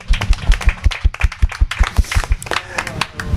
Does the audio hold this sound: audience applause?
yes